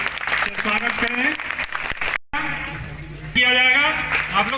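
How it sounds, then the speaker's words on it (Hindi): Applause welcomes guests at a school education-dialogue event in Manihari, Bihar, a broad burst of clapping mixed with someone speaking over it, pausing briefly before the clapping swells louder near the end. "जोरदार ताली से स्वागत करें"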